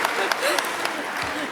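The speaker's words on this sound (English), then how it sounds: "Give yourself a round of applause." A high school sports awards audience applauds briefly, a short burst of scattered clapping with a voice talking over it.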